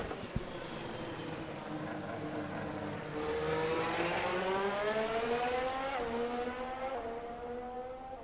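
Formula hybrid race car engines in the Assetto Corsa video game whine steadily, pitch climbing and dropping through gear changes, with no talk, a continuous high-revving drone throughout.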